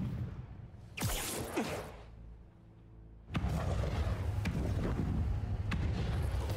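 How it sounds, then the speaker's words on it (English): Fireworks boom in the Spider-Man 2 game on PS5, a sharp whooshing burst followed by a quieter gap, then a heavy loud blast with a rumbling, crackling tail. "This a little early for fireworks."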